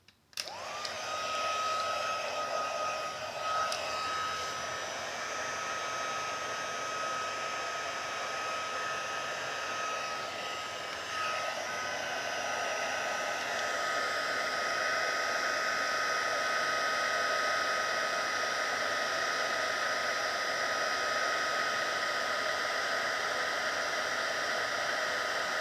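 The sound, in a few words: heat gun blowing hot air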